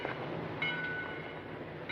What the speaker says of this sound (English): Get in the train, Kelly.